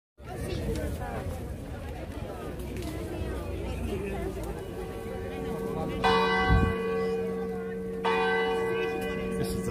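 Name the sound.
church bell tolling in Faro, Portugal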